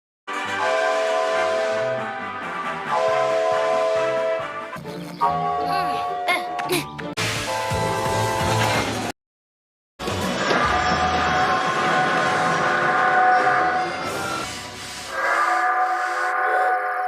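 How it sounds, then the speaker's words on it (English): Cartoon train whistles and horns from Masha and the Bear play one after another, loud sustained tonal blasts in separate segments with a brief silent break in the middle. "those are all the train whistles and horns from Masha and the bear."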